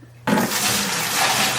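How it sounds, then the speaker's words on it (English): Whey is poured off Gouda cheese curds, a sudden loud, close rush of liquid that keeps splashing steadily until the end. "Pour off whey without pouring off cheese, but it settles pretty good."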